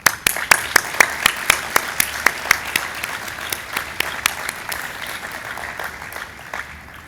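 A graduation ceremony audience for the NIST Class of 2020 breaks into applause, starting with sharp, distinct claps that blur into a sustained, evenly spread clapping which slowly fades toward the end.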